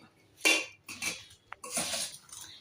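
Chili powder and salt being mixed into bitter gourd pieces for pickle, heard as a few close, brisk clinks and rustling scrapes of a utensil against a bowl, in short separate bursts with no talk.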